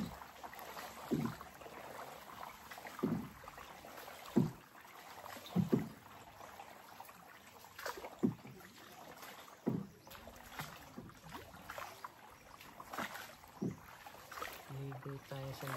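Small wooden boat moving along the Maasin river, with soft water lapping and splashing against the hull in irregular knocks and swishes, close by, quiet overall, with faint voices in the background.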